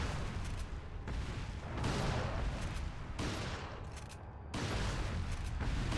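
Resident Evil 4 HD gunfire in a tight fight, with a run of loud shots and booms arriving in bursts of about a second each, close and heavy, and no talk over them.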